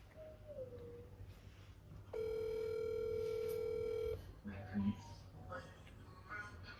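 A phone call is placed on a mobile handset: a steady dial tone sounds for about two seconds, then a short beep follows, all under low background noise and a faint voice.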